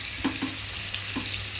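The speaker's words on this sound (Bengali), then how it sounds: "আর এখন আমি দিয়ে দেবো কেটে রাখা এই যে আলু আর হচ্ছে কলা" Cubed potato and green banana fry in oil with cumin, a steady low sizzle with a few soft scraping stirs near the start and again later, close and fairly quiet.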